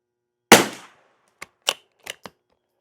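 A rifle firing CCI SV rounds gives one loud crack with a short fading tail, then four sharper, quieter clicks and pops in an uneven sequence against silence.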